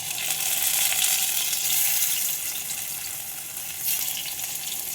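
Slices of pointed gourd (potol) fry in hot oil, making a loud, continuous, close-up sizzle and hiss that swells slightly at times, with no voices.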